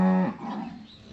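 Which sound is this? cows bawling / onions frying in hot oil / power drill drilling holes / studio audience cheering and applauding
cows bawling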